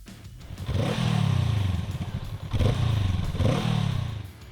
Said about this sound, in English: Riding up at number 8 is the Honda SCL 500.